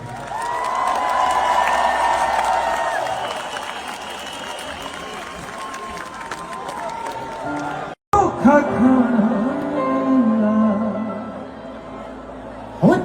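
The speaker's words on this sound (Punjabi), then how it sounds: "ਇੱਕ ਤਾੜੀ ਪੰਜਾਬ ਦੇ ਨਾਲ" Crowd at a Punjabi gathering for flood relief applauds and cheers for Punjab, a loud sustained wash of clapping and voices that breaks off briefly, then resumes with rising shouts and music-like tones.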